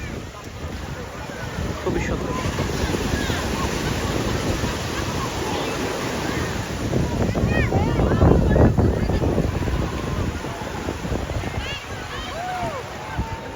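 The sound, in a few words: sea waves on the beach at Cox's Bazar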